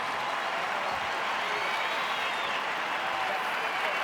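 Large stadium crowd at an All Blacks v Springboks rugby test applauds steadily as the Springbok skipper leaves the field, a dense continuous roar of clapping with commentary voices underneath.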